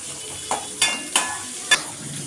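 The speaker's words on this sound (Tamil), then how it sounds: "தக்காளியை போட்டு வதக்கணும், அது பொன்னிறமாக வரணும்." Tomatoes sautéing in a pan: a continuous soft sizzle broken by four sharp scraping stir strokes of a spatula against the metal, close and clear, no talking.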